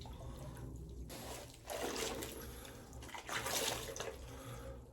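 Water sloshing and lapping in a bathtub as someone sits in it, close and continuous with a couple of louder swells of splashing movement, no voices.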